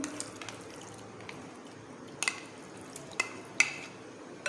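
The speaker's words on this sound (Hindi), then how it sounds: "अच्छे से मिक्स कर लेंगे इसको।" Spoon stirring a sabudana drink with ice cubes in a glass, quiet swirling broken by a few sharp clinks of ice and spoon against the sides.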